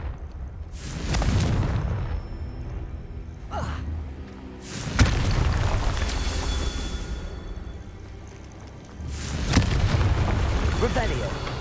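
Confringo fire spell explosions in Hogwarts Legacy go off as three booming bursts several seconds apart, each with a sharp crack and rolling rumble. A voice speaks between blasts.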